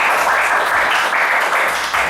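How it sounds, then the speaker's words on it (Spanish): Audience applause for a contestant on a Spanish-language quiz segment, a close, fairly loud burst of clapping that pulses in uneven swells throughout. "Un aplauso para Rafa, ha estado muy cerca."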